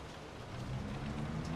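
Steady heavy rain pours down in a continuous broadband hiss with low rumbling underneath, loud and even throughout with no voices.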